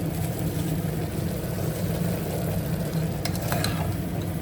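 Vegetables and spices for a soya vegetable pulao are stirred in a pot, making a steady close sizzle and shuffle with a few quick utensil clicks near the end.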